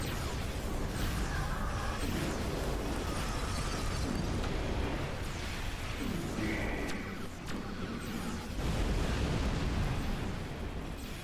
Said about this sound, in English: Those torpedoes are pretty damn good.